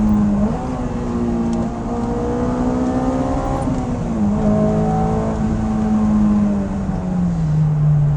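Honda S2000 AP2 with a naturally aspirated F-series engine revving loud and close from inside the moving car, pitch climbing through a gear and then settling at a steady drone.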